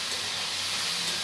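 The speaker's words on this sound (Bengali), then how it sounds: "পেঁয়াজটাকে একটু হালকা ভেজে নেব।" Onions lightly frying in a pan give off a steady, even sizzling hiss, close and unbroken for the whole moment.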